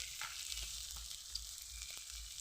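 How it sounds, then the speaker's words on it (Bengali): Mixed vegetables with cauliflower fry in a pan with turmeric, chili and black pepper powder, giving a soft, continuous sizzle with faint crackles and occasional stirring scrapes, heard alone and fairly quiet. "গোলমরিচের গুঁড়ো আর একটু ভেজে নেব।"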